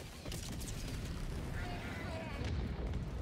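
A hell bomb goes off in the Helldivers 2 video game: a sustained, roaring blast with dense rumbling noise that fills the whole clip, loud and close, with faint voices mixed in.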